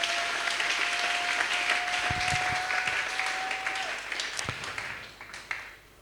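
A church congregation applauding, a dense sustained wash of clapping from many hands that holds steady, then thins and fades toward the end, with a faint held tone in the background.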